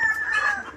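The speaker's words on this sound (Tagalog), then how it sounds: "Panay ang anuhan ng mga manok, mga nangingitlog po." A laying hen on a farm gives a single short, loud, close cackling call, a rising then falling cluck-crow lasting under a second.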